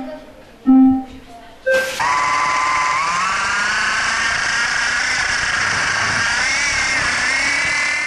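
Slot cars in an endurance race on a slot car track give off a high electric motor whine that wavers in pitch as they lap, close and steady, following a few short sharp knocks.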